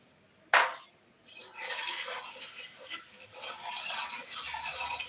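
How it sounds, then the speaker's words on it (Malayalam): A spoon clinks once against a pan, then scrapes and swirls as sugar is stirred into orange juice for orange jelly candy, a close, steady scraping with a few light taps. "എന്നിട്ട് നന്നായിട്ട് പഞ്ചസാര ഇട്ടിട്ട് ഒന്ന് ഇളക്കി കൊടുക്കുക"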